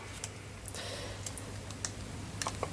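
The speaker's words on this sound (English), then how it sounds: "I'm going to use the keyboard to go down" Keys tapped on a computer keyboard while navigating menus in Arch Linux, a few sparse, quiet clicks scattered over a low background hum.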